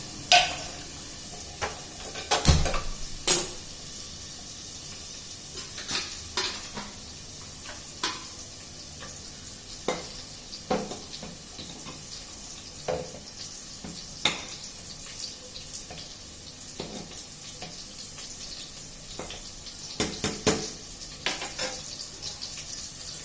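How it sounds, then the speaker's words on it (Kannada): Oil sizzles steadily in a pan while a utensil scrapes and clinks against it in irregular strokes, close up with no talking. "ಆಯಿಲಲ್ಲಿ ಇದನ್ನು ಸ್ವಲ್ಪ ಫ್ರೈ ಆಗಲಿ"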